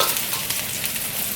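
Garlic frying in hot oil in a wok for spicy stir-fried cabbage, a steady loud close sizzle with no talk over it.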